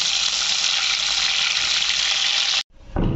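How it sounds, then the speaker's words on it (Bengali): An egg fries in a hot karahi with an even, loud, close hiss of sizzling oil that runs unbroken, then cuts off abruptly to near silence before a low rumble starts. "ডিমটা আমি ভালো করে ভেজে নেব"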